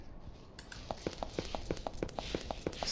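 A loose cow in the video game Avernum: Escape from the Pit walks with an even run of hollow hoof clops over a steady background hum.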